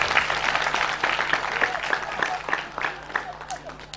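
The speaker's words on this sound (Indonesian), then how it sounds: "Kita tepuk tangan buat beliau" Audience applause at a National Santri Day 2021 gathering held by an Islamic community organisation in Pontianak, a few seconds of dense, steady clapping with scattered individual claps, heard alone without speech.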